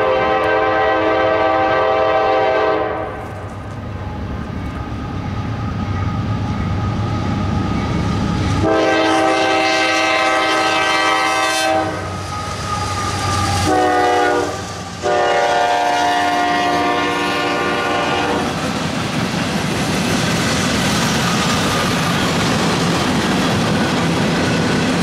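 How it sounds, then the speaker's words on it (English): A northbound CSX intermodal freight train of empty container cars rumbles past with loud, sustained horn blasts in several bursts, followed by the rattling clatter of rolling cars. "Container train of some kind, empty cars."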